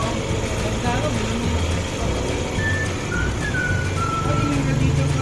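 A Yamaha NMAX V2 scooter engine idling steadily after being repaired, a continuous mid-pitched hum under someone talking nearby, with faint whistle-like tones drifting above.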